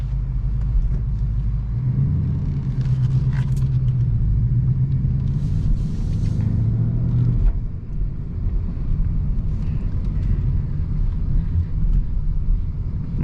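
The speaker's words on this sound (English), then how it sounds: "So let's go ahead and buckle up and take it out for a drive." A 2018 Ford Mustang GT Premium drives along with a steady, loud low engine rumble and road drone heard from inside the cabin, swelling slightly in places.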